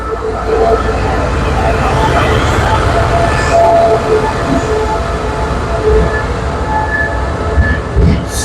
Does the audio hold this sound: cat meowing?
no